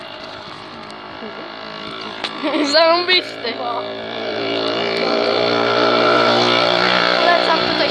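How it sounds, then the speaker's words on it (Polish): A motorbike rides past outdoors, its engine buzz rising then holding steady as it nears, while someone speaks briefly over it. "Fajny motorek jedzie."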